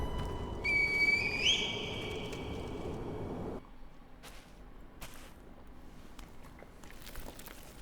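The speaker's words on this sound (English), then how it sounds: "Call the divine heir with the reed whistle?" In Sekiro: Shadows Die Twice, a reed whistle sounds a short, clear tone that bends upward in pitch over a low ambient rumble. Quieter game ambience with scattered faint knocks follows.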